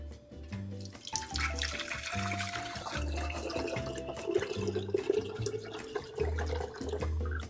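Mint agua fresca strained in a kitchen, liquid pouring and splashing steadily through a strainer with a shifting low hum and clatter, close and continuous.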